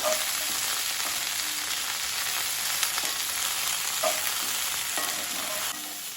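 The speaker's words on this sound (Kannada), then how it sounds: "ಇದನ್ನು ಒಂದೆರಡು ನಿಮಿಷ ಚೆನ್ನಾಗಿ ಫ್ರೈ ಮಾಡ್ಕೊಳ್ಬೇಕು" Broccoli and corn masala frying in a pan, a dense, continuous sizzle with a few stirring clinks, close and even, fading slightly at the end, no voices.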